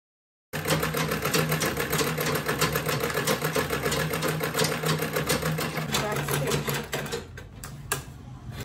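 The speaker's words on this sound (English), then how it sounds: "Sewing the second side now." A sewing machine stitches the side of a quilted tote bag, a rapid, even mechanical chatter running close and steady for several seconds before slowing and stopping.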